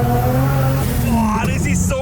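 A turbocharged BMW M50 engine in an E36 rated around 700 horsepower, pulling hard under acceleration while drifting, with a loud, steady engine tone that climbs in pitch, tire noise and a voice briefly talking over it.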